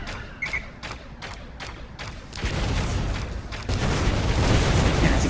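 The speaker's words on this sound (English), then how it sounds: "those are the rockets you really have to watch out for" Rocket explosions in the VR space shooter Nightstar: Alliance start as a run of sharp thumps, then swell into a loud, sustained roaring rumble with heavy booms layered on top.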